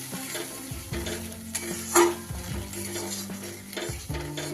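Chili paneer gravy, thickened with cornflour, stirred in a pan over very low gas: a spoon scrapes and clinks against the metal in a steady rhythm, with one sharper knock near the middle and a soft bubbling underneath.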